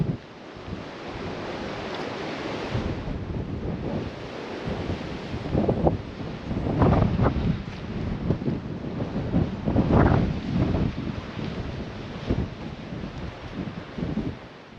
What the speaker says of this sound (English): A little bit windy out here.